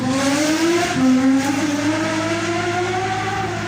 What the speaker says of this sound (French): Allez, on revient avec l'R5, avec la DS3 R5 de Frédéric Roussel et Céline Cossia.